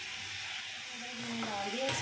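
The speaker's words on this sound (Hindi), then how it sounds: "और इधर पानी को बॉयल आ रहा है, मैं इसमें डालूँगी चावल" A pot of water coming to a boil for cooking rice gives off a continuous bubbling hiss, with a voice talking over it partway through.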